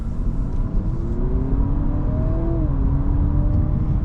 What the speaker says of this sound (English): you can hear a little bit of that engine sound that's actually piped in through the speakers when you're in sport mode